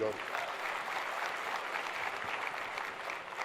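Steady applause from an audience, a dense wash of clapping that holds at a constant level throughout, no pauses.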